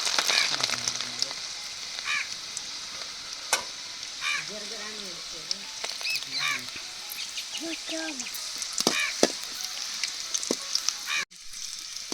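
Garlic sizzling in about 150 ml of sesame oil in a pan for a village-style chicken chinthamani, a steady frying hiss with stirring scrapes and occasional clinks, with speech heard now and then.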